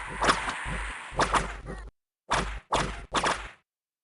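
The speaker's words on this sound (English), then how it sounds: "Listen to that sound of all the whips." Several whip cracks in the Dominions 6 strategy game, sharp bursts arriving in quick clusters with short pauses between them, loud and alone without speech.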